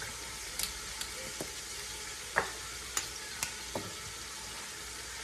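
Turmeric and other spices go into a pan for Moroccan couscous, with a few soft taps and scrapes of stirring over a faint sizzle, the clicks spaced irregularly and heard alone without talk.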